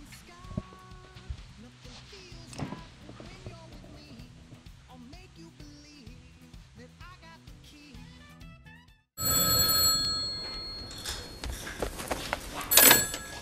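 A telephone ringing, a melodic electronic ring repeating for about nine seconds, then giving way to a louder, busier stretch of noise.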